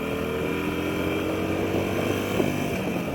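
A Harley-Davidson 883 Sportster motorcycle accelerates hard in first gear, its engine droning loud and close with a strong, steady harmonic rumble. No voices break in.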